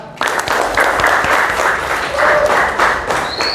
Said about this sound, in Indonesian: Tepuk tangan untuk Eza